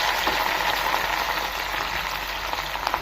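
Chopped onion and tomato sauté in a pan for a mint egg gravy, giving off a steady, even sizzle that carries on unbroken at close range with no talking.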